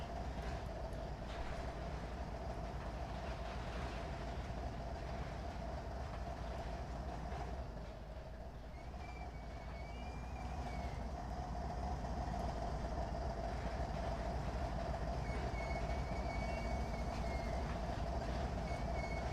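A train rolls steadily along rails in the Trainz railway simulator, a continuous rumbling run with a low engine drone and faint squeals from the wheels. No one speaks.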